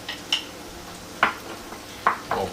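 Oil sizzles in a pan on the stove, a soft hiss broken by a few sharp clinks and scrapes of a utensil against the pan, close and fairly quiet.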